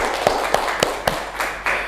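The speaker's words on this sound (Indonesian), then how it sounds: "Tepuk tangan untuk kita semua" Classroom applause as a group claps in a steady, evenly spaced rhythm, about four sharp claps a second, close and fairly loud.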